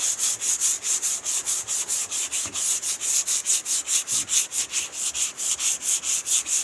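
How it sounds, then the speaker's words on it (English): Quick rhythmic back-and-forth scrubbing of wet sandpaper on paint, about four strokes a second, close and steady, with no talking. "I'll do a little bit of the wet sanding like this guy."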